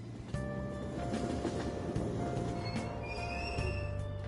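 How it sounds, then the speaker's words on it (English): A Tokyo subway train in Persona 5 Royal pulls away from Aoyama Ichome station with a low rumbling engine drone, a steady electric whine and scattered wheel clatter, close and continuous. "Train doors are now closing."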